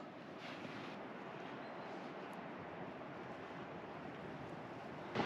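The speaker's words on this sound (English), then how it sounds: "the wind's picked up a little bit" Steady wind rushes across an open mountainside in Spain, a continuous broadband roar with gusty swells and a brief louder buffet at the very end, no voices.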